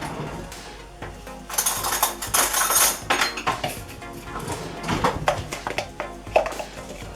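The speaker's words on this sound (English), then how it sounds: "I always sieve mine because it's really lumpy" A sieve shakes baking powder and flour into a bowl in a home kitchen, making a busy run of close metallic rattles, clinks and taps with no talking over it.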